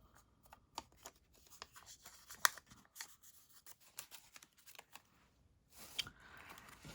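Scissors snip through a yellow Post-it note in a quiet room, a series of soft, irregular close cuts and paper rustles with brief pauses between them.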